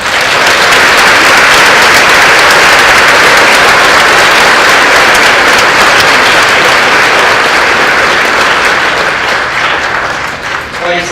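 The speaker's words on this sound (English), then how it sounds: "Let's give them a round of applause." Sustained, loud audience applause fills a middle school spring choir concert, dense steady clapping throughout with crowd noise, tapering slightly near the end.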